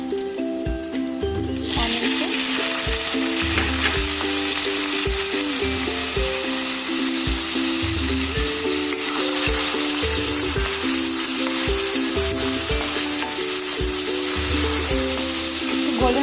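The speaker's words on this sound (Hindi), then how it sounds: "इसमें 3 बड़े चम्मच ऑयल ऐड कर रही हूँ। मैं इसमें मोटी इलायची और स्टार को ऐड कर रही हूँ।" Black cardamom and star anise drop into three tablespoons of hot oil in a kadai, and a quiet moment turns into a sudden, loud, sustained sizzle over soft melodic background music.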